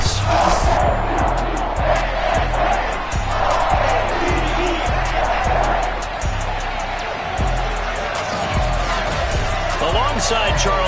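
A stadium crowd in Madden 22 at a Ravens versus Dolphins game roars steadily throughout as a loud continuous wash, while a commentator talks over it.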